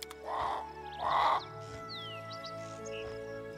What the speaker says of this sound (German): Der Rabe breitet seine Flügel aus und fliegt davon.